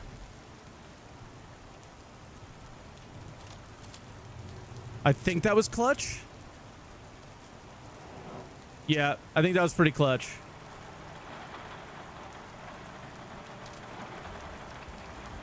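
Steady rain falls in a stormy Star Citizen game environment, a soft continuous hiss, while people talk over it in two short bursts.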